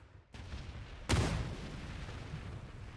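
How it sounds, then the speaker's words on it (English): Explosions in the PUBG battle royale video game: a sharp crack followed by a heavier booming blast that tails off into a rumbling decay, fairly loud with no voices. "Look at that explosion right there from the yellow zone."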